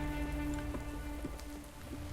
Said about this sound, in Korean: 비가 오기도 하고 너무 무섭다